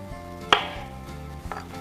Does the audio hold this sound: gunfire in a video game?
no